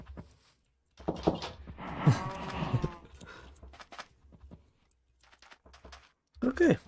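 Cows in a video game zoo, trying to get out, let out a drawn-out low call with some bumps and shuffling. People speak quietly over parts of it.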